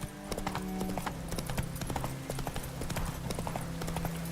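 Hooves of the horse Roach galloping in The Witcher 3, a rapid, continuous clip-clop rhythm close up, with a faint brief vocal cue and steady game ambience underneath.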